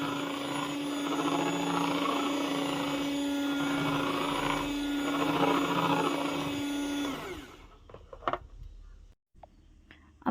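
A blender whirs steadily and loudly as it mixes lye, charcoal and goat milk for homemade soap. The motor drones for about seven seconds, then cuts out, leaving a few faint clicks and clatters.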